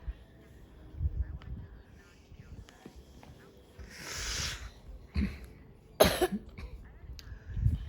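Child coughing after going swimming the day before, a few separate raspy coughs and throat sounds spaced out over quiet indoor background noise, fairly close.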